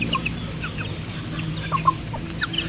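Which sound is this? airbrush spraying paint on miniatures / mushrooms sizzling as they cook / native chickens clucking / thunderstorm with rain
native chickens clucking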